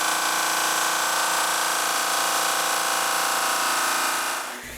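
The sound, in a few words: electric sander sanding maple wood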